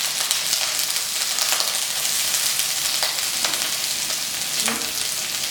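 Onions frying in a pan for chilli baby corn give a steady, loud, close sizzle with occasional faint stirring scrapes and no talk.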